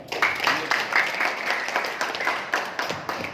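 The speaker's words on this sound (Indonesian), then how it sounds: "Aplaus buat Pak Faisal." Audience applause at a network-building training session, a dense burst of clapping from many hands with some voices mixed in.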